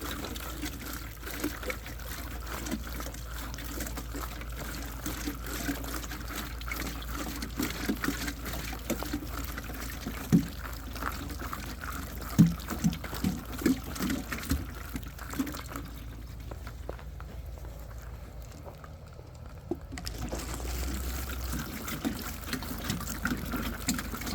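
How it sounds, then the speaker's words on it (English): Water runs from a container onto plants being watered in, a long, steady low pour and trickle that eases off briefly near the end, with occasional light knocks. "Water with it. This one kind of just drips a bit."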